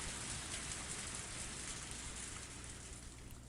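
Steady, dense downpour of torrential rain from the video game Higurashi When They Cry, a loud continuous hiss that stays even throughout with no voices over it.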